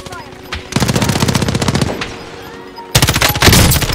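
Automatic gunfire in a Call of Duty-style shooter with the M13 rifle, loud rapid bursts of close shots separated by a short pause, with faint game noise between them.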